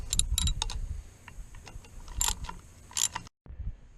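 Small 10mm housing bolts being wrenched out on a Mercury 9.9 long-shaft outboard motor during an impeller change, with faint ratcheting clicks and metallic taps in scattered bursts, quiet and close, followed by a brief pause.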